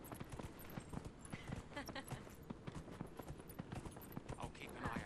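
Horse hooves clip-clop in a steady, fairly quick rhythm as a mount trots through Dragon Age Inquisition, with rushing wind and busy game effects layered underneath.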